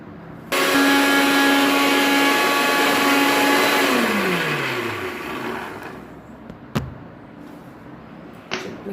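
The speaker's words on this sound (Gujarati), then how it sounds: "આપણે એને મિક્સરમાં ક્રશ કરી લઈશું પહેલાં." Two packets of biscuits being crushed in a mixer grinder, a loud close motor whir that runs for several seconds, then winds down with falling pitch, followed by a couple of knocks.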